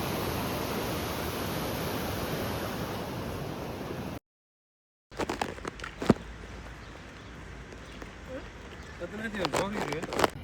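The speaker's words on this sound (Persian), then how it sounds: "جریان آب خیلی شدیده." Strong river water rushes loudly and continuously beside the famous Roman bridge in Córdoba, followed after a brief silence by quieter outdoor ambience with footsteps and scattered knocks.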